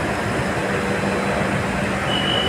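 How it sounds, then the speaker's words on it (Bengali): At a Bangkok station, an arriving train makes a continuous, loud rumbling roar with hissing wheel and rail noise that holds steady from start to finish, without speech. "আমার ট্রেন আসছে"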